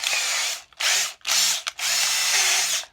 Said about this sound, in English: So I got the little drill, and I'm just going to cut along this bottom line right here.